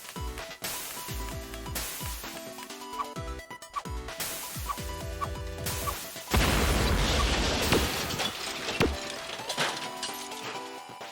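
Explosions in the video game Hero Hours Contract 2, a string of booming blasts and crashing, splintering impacts, some rapid and overlapping, building into a louder sustained rumble partway through.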